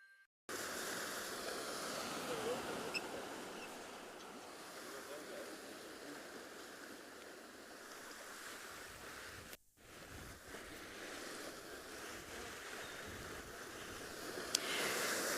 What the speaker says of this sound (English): So you'll see that these waves are crashing into the rocks here